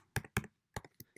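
Several sharp keystrokes on a computer keyboard, entering a command on a Raspberry Pi setup, arrive as close, distinct taps in two quick pairs and then three scattered single presses, with silence between.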